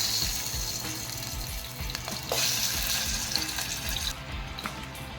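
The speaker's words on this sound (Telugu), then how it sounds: "ముందుగా చికెన్ మారినేట్ చేసుకున్నాం కదా అది కొద్దిగా ఫ్రై చేసుకోవాలి" Marinated chicken pieces sizzle and spit in a hot pan, a loud, crackling fry with bursts of spatter and occasional clinks, steady throughout with no voices.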